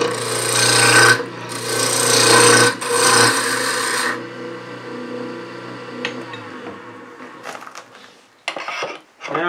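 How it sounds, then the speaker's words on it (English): Loud, rough scraping of a spindle roughing gouge on spinning wood, in long bursts with brief pauses, fading to quieter intermittent cutting and scraping toward the end. "So I'll just use my spindle roughing gouge"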